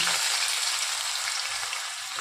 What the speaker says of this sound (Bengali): এখন পেঁয়াজটা আগে ভেজে নেব,